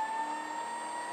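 An electric vehicle motor spins on a laboratory test bench, giving off a steady, fairly quiet high-pitched electric whine with a faint background hum.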